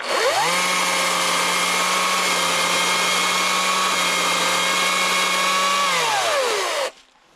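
A Harbor Freight Atlas 80V battery chainsaw runs for about six seconds and cuts wood with a steady, loud electric whine. Its pitch ramps up at the start, holds level, then winds down before it stops abruptly.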